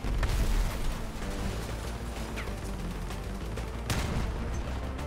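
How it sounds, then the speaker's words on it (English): Vehicle combat in the Crossout video game brings a dense, rumbling barrage of gunfire and heavy impacts, loudest at the start, with a sharp blast near the end and no speech. "Get away from that machine gun fire and see if we can take this guy out."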